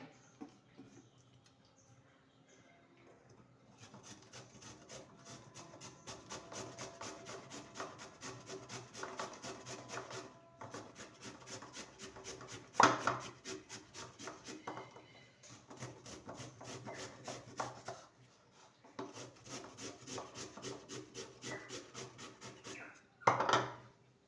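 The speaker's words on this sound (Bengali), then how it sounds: "এইভাবে সমস্ত আলুকে গ্রেট করে নেব" Medium potatoes rubbed across a metal grater in long bursts of rapid rasping strokes, separated by short pauses, close and fairly quiet with a few louder knocks.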